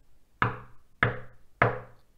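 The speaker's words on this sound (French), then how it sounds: "Qui frappe à la porte de la petite taupe" Three firm knocks on a door, evenly spaced about half a second apart, each sharp and fairly close with a short ringing decay, heard alone without speech.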